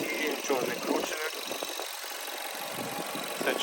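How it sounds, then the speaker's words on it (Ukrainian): A Volkswagen Passat B6 car engine idles steadily at a low rumble, with a person talking over it throughout. "Зараз заведу двигун, покажу вам підкапотний простір"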